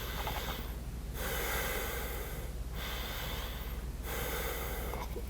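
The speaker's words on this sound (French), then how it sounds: "ça, c'est la respiration sur 2 pas qu'on pourrait faire" Forceful rhythmic nasal breathing during a breathing exercise over two steps: long loud sniffing inhales and exhales run continuously, broken by three short pauses, close to the microphone.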